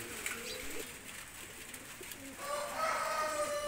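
Pigeons coo softly in a low, repeated warble, fairly faint against a quiet background, with a few overlapping calls toward the end.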